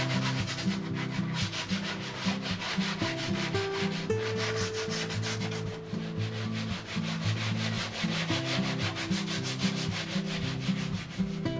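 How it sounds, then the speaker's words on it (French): Sanding the painted hull bilge of a boat: loud, close, continuous rhythmic rubbing strokes of abrasive on the surface, with no talking. "Bon bah on attaque le ponçage"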